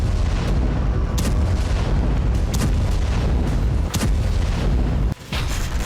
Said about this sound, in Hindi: दक्षिणी लेबनान पर इजराइल ने जबरदस्त बमबारी की है।